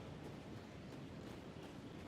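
Cold wind blowing across the frozen tundra of Microtech in the Star Citizen video game, a faint, steady, broadband rush with no gusts or voices.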